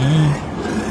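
Kubota DC-108X tractor engine from Farming Simulator 22 hums in a steady low drone, loudest at first and then settling slightly quieter for the rest of the second.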